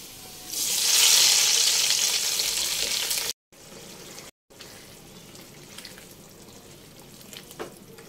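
Onions frying in a pan for spiced beef tongue, a loud steady sizzle that swells early, then eases into quieter crackling with a few brief gaps and occasional stirring clinks.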